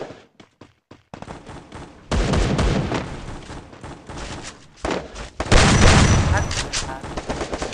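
Gunfire in Garena Free Fire, a 6v6 custom match: a few sparse shots, then dense sustained bursts of rapid automatic fire, loud and close, with brief pauses between volleys.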